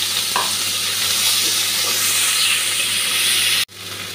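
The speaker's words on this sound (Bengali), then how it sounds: "এখন পেঁয়াজ কাঁচা লঙ্কাটা ভেজে নেব।" Onion and green chili frying in a pan, giving a steady, loud sizzle with faint stirring scrapes, then a sudden brief drop before the sizzle resumes slightly quieter.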